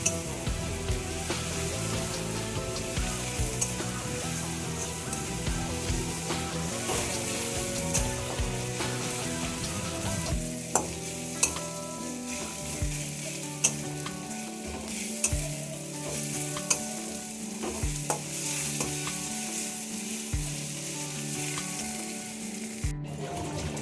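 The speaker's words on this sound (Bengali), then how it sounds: "রসুন বাটা দিয়ে দিলাম। এবার এইটাকে ভালো করে আবারও ভালো করে ভাজা করে নেব" Garlic paste frying in a pan as it is stirred: a constant close sizzle runs throughout, broken by frequent clicks and scrapes of a spoon against the pan, with no one speaking.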